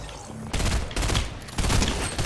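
Pistol fire in a Fortnite gun game match sounds in loud, close bursts of rapid shots, with three distinct volleys cutting in one after another.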